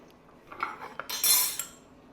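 Baked potatoes for crispy parmesan potatoes being smashed open and moved onto a butter and cheese mixture: a few close metallic clinks and scrapes of utensils against a pan in quick succession, no speech.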